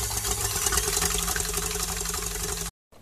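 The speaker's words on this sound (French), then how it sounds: "je vais lancer mes blancs en neige à vitesse maximum" An electric mixer whips egg whites at maximum speed, a loud, steady motor whir that runs unbroken for nearly three seconds before cutting off abruptly.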